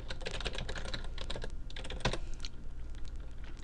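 Rapid keystrokes on a computer keyboard as a password is typed into a terminal on Ubuntu 11.04, a steady run of close, crisp clicks with a brief louder tap near the middle, no voices.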